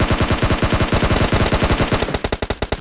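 Rapid automatic gunfire in PUBG Mobile Lite, a loud close burst of evenly spaced shots that keeps up for about two seconds, then slows into a few separate cracks.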